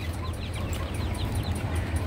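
Farm chickens, including young chicks, cluck and chirp in a busy overlapping chorus of short repeated calls over a low steady hum, moderately quiet and without speech.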